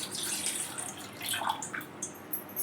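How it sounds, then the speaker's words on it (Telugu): Water is poured into a bowl for a home remedy, giving a brief, light splashing trickle of small uneven spurts, fairly quiet and close. "తీసుకుని దీంట్లో వాటర్ వేసుకోవాలండి"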